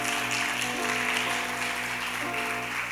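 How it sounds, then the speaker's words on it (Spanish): Applause from a congregation at a Spanish-language church service, a dense sustained roar of clapping mixed with a steady musical hum underneath, loud and continuous without breaks. "Dale un fuerte aplauso al Señor."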